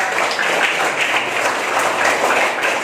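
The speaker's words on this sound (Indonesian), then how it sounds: "tepuk tangan" A class of children at an Islamic lesson on the Qur'an and Hadith claps together in a dense, continuous round of applause, close and fairly loud, holding steady for the whole stretch.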